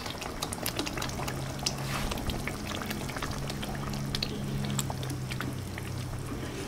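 Peanuts boil in water with a continuous bubbling, gurgling wash, scattered pops, and a low hum underneath.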